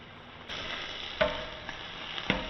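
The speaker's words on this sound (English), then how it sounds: "Saute for 2 minutes." Squid sautéing in a pan with turmeric, pepper powder, cumin and red chilli, giving a steady soft sizzle with a few sharp stirring clinks against the pan.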